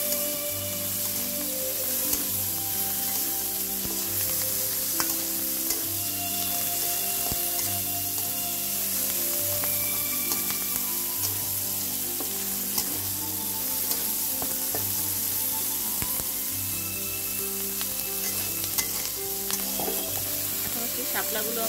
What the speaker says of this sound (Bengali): এবার মরিচগুলো দেওয়ার পরে একটু ভালো করে আবার একটু ভেজে নিচ্ছি।